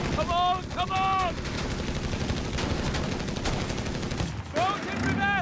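Rifle and machine gun fire from Bersaglieri infantry in Company of Heroes 3, a dense continuous crackle of shots in a battle scene, heard under game voice lines and talking.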